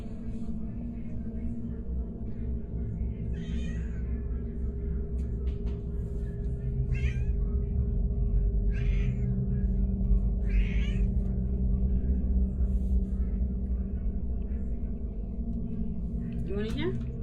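A cat behaving oddly gives several drawn-out meows spaced a few seconds apart over a loud, constant low hum, with people talking quietly in between.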